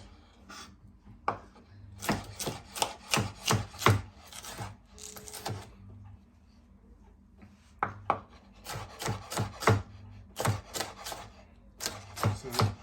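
A knife chops yellow pepper on a board for a seafood rice, giving close, crisp bursts of rapid cuts separated by short pauses, with no talking over them.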